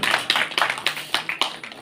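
Listeners clap at a Chhattisgarhi comic poetry gathering, a short run of brisk, slightly ragged claps, close and fairly loud, with no voice over them.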